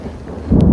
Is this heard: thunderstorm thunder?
yes